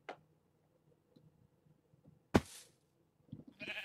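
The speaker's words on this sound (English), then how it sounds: "Right, sheep. That's the sound of sheep." A sheep bleats in the Minecraft Feed The Beast video game, a short bleat heard alone among quiet game ticks and faint clicks.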